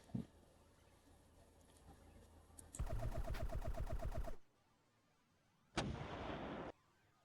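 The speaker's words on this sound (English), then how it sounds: "You can immediately identify the sound as, oh crap, I'm being shot at." Gunfire sound effect: a dense rapid burst of repeated shots with sharp rhythmic cracks, then a pause and a second loud, shorter burst, all close and without talk.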